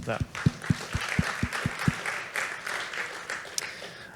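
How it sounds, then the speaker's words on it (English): Audience applause at a security conference closing ceremony, opening with a few sharp, evenly spaced claps before spreading into a soft, diffuse patter of many hands across the room. "Give them all a round of applause."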